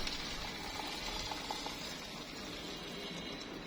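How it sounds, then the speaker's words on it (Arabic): Hot water is poured into a pot on a gas stove, producing a soft, continuous splashing rush with a few faint clinks, close and steady throughout. "دلوقتي هبتدي ان انا انزل بالميه السخنه، اشغل النار"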